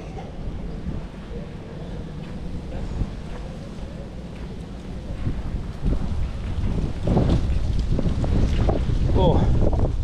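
Gusty wind buffets the microphone outdoors on a street near Anfield Stadium, a constant low roar that swells louder in the second half, with faint voices mixed in.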